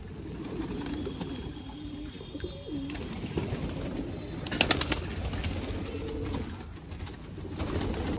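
Pigeons, about 130 of them, coo softly in a low, repeating murmur against outdoor background noise, with a brief flurry of sharper sounds midway and no talking.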